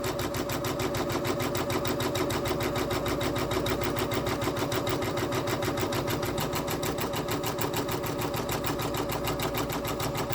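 A Janome MB4/MB7 embroidery machine stitches trapunto on fabric held in its hoop, giving a steady, fast, loud mechanical chatter that runs unbroken and even from start to finish with no talking.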